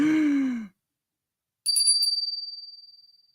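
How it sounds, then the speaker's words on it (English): A single bright bell ring rings out clearly after a short sigh-like voice, its metallic tone decaying slowly in rapid shimmering pulses until it fades away. "Where's my bell?"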